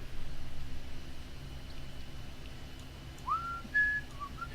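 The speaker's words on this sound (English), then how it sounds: "I could whistle that song all day long." A person whistles a few short melodic notes of a song, faint and alone against a steady low background hum.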